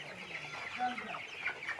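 Broiler chickens cluck and chirp softly in a poultry shed, a faint, steady chorus of overlapping calls with no voices on top.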